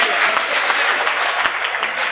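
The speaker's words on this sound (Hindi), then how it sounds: "अगर मेरा बदला ठीक हो गया हो तो एक बार जोरदार तालियां बजा दीजिएगा उल्लसित होकर के" A comedy poetry audience breaks into loud, sustained applause, dense clapping that runs on steadily without any talking over it.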